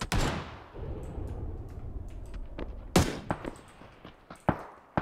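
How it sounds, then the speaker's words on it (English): Gunshots in a multiplayer shooter video game, sharp cracks at varied distances: a loud close shot at the start and midway, then several fainter, scattered reports with quiet gaps between. "I'm a noob at gunshots, but you hear two different gunshots"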